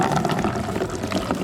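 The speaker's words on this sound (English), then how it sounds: "we're gonna get a little hot water just to clear the rest of the ice" Hot water pours into a bucket to melt ice, a continuous splashing, gurgling rush close to the microphone that holds steady for the whole moment.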